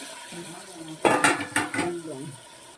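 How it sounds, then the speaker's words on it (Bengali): Chicken pieces tumble into a pot of fried spices with a few loud clattering, sizzling bursts in the middle, while a voice murmurs faintly before and after. "এই যে চিকেনগুলা দিয়ে দিচ্ছি"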